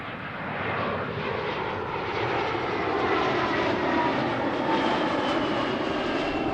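A British Airways Airbus A320 jet passes overhead near a Heathrow runway at night, a steady broadband engine roar that swells gradually and holds loud throughout, with no voices.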